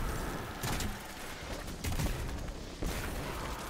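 Rocket launcher fire in Destiny 2, with a few broadband blasts at intervals over a constant busy game background, punchy bursts standing out from the mix.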